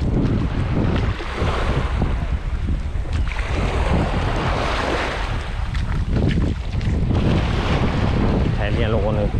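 Sea waves and gusting wind at Mamzar Beach, a steady loud wash of surf with wind buffeting the microphone throughout, no talking.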